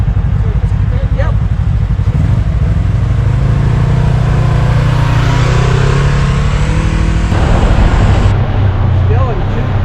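An off-road vehicle in two-wheel drive high rolls along a dirt canyon road at Box Canyon near Mineral Mountain, a steady close engine drone with crunching and rattling underneath, while people talk over it throughout.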